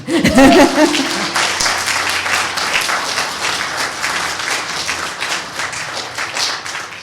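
An audience at a reparations forum in a United Methodist church breaks into sustained, dense applause after a brief voice, the clapping continuing evenly to the end.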